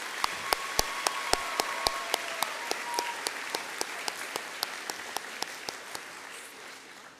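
A graduation ceremony audience applauds a row of graduates with sparse, evenly spaced claps that start fairly loud and gradually thin out and fade over several seconds.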